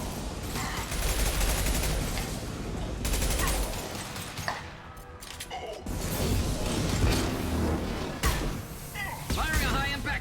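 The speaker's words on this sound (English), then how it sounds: "Firing a high impact shot." Gunfire from a high impact shot in Mass Effect 2, heard as dense bursts of shots with mechanical clanks and creaks, loud and close, amid game noise and brief voices.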